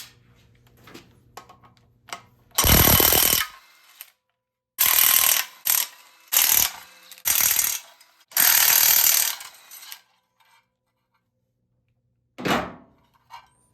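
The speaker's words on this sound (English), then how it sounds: "I'm going to pull the flywheel off in my block plate so I can put the mount up here" Wrench and metal-part work pulling the flywheel and block plate off a 1976 Ford F100 engine in a garage: several loud bursts of rattling, ratcheting mechanical noise in uneven clusters, separated by quiet gaps, with a last short burst after a pause.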